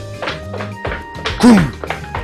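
A few dull knocks on a door in a visual novel video game, quick thuds mixed in with voiced speech-like sounds.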